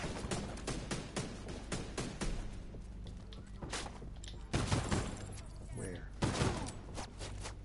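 Gunfire including shotgun blasts in The Division 2, repeated sharp reports in an irregular rhythm through a busy firefight, with a player's voice speaking over the shooting.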